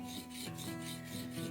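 A curved plane blade is sharpened with rhythmic, evenly paced rasping strokes, each about half a second long, close and steady with no voices.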